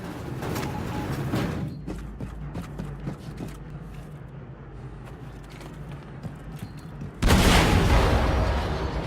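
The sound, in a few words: explosion in hangar bay, Wolfenstein II video game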